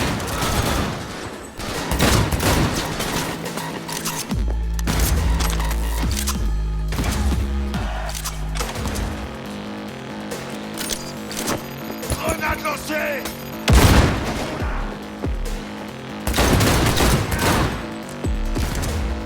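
Gunfire in the Cyberpunk video game comes as loud, dense bursts and rapid fusillades with sharp single shots mixed in, while players' voices talk underneath.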